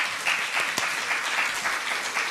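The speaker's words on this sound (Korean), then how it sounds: "우리 크게 한번 박수하면 좋겠고요." A church congregation claps together for a family during a Sunday Advent service, a lively close burst of applause lasting a couple of seconds with no talk over it.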